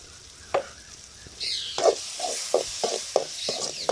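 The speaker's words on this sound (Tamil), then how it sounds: "வெங்காயம் நல்லா பொன்னிறமாக வதங்கிடுச்சு இப்போ நம்ம வந்து தக்காளி போட்டுக்கலாம்" Onions browning in a pan as tomatoes are added, with intermittent scraping and stirring strokes, a steady sizzle underneath and no voices.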